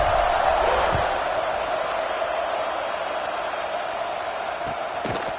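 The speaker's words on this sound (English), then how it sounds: "this crowd is buzzing after that last score" Stadium crowd in the video game College Football 26 buzzing after a score, a dense, steady roar of many voices filling the space, loud and constant with a few faint thumps.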